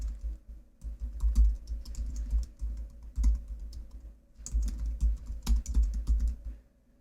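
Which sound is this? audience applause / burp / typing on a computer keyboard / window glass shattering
typing on a computer keyboard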